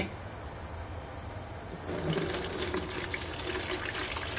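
Homemade MOL (local microorganism) liquid being strained through a sieve, separating the liquid from the solid residue; a steady pouring, trickling wash of liquid that grows louder midway, with no talk.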